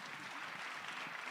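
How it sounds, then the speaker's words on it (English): A conference audience applauds panelists at a forum, giving a dense, even wash of clapping that sounds fairly distant and soft and holds steady for the whole short stretch. "Give our panelists a round of applause."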